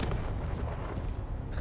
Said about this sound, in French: Donc maintenant, on peut utiliser le canon.